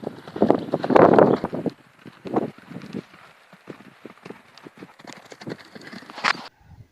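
Several horses trotting, hooves clip-clopping in uneven rhythmic beats, louder up close at first and then softer and more scattered, with no talking.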